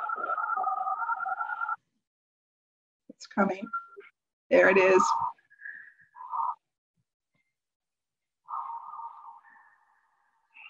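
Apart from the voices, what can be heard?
dial-up modem connecting to the internet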